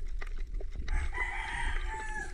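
A rooster crows at night somewhere near a Philippine coast, a drawn-out tonal crow rising after a few clucks and knocks, moderately close and clear over a low rumbling background.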